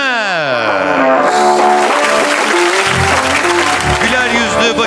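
An audience at an award ceremony for an innovative hair transplant clinic bursts into sustained, loud applause for the winner as she comes to the stage, with bright music swelling over the clapping throughout.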